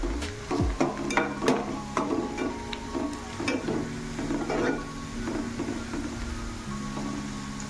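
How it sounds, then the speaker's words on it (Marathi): Onion for zunka sautés in a pan with a steady close sizzle, broken by repeated scraping and clinking strokes of a spatula stirring against the metal, no voices. "कांदा छान मऊ होईपर्यंत परतवून घ्यायचा आहे।"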